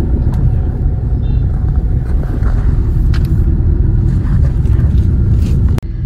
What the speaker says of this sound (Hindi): इतना ट्रैफिक है ना इधर, बहुत ट्रैफिक है।